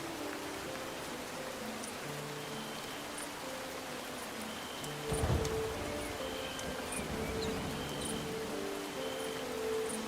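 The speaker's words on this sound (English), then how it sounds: "Man, it's a rainstorm." Steady rain patters in a video game, with a soft continuous hiss and scattered drops, punctuated midway by a brief louder rumble, with faint game tones over the rain.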